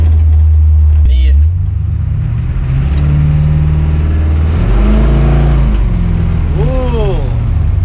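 Holden HQ car engine pulling and accelerating on the road while running rich, a steady low drone that rises and swells in pitch, with people talking over it.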